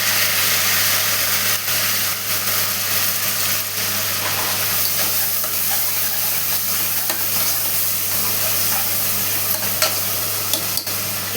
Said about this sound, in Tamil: 2 மீடியம் சைஸ் தக்காளி, அதை சேர்த்து நல்லா வதக்கிக்கலாம்